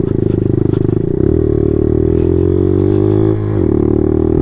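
Suzuki DR200 motorcycle pulling up a hill in third gear, its single-cylinder engine loud and close with a steady throbbing rhythm, a brief dip in revs partway through, no speech.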